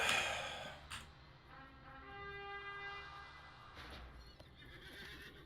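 A horse in Lord of the Rings Online whinnies with a long, wavering neigh, loud and close, then trails off among light hoof sounds and background noise.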